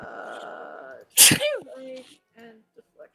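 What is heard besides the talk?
sneeze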